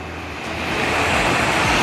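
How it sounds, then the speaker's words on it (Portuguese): Rushing water from a waterfall beside a road in Colombia, reached during a long bike ride, makes a steady broadband roar that swells slightly louder over a couple of seconds, with no speech. "Cara, olha essa cachoeira."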